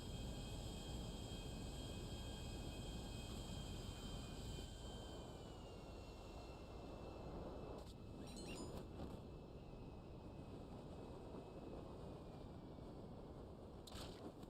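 Plane engine in GTA Online, a steady droning aircraft hum that runs continuously and loudly with a whining tone over it, with no voices.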